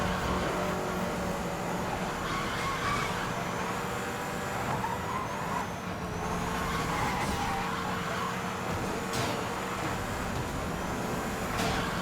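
A racing car in a video game drives with a steady engine drone and road rumble that holds for the whole stretch, with a few sharp transient hits.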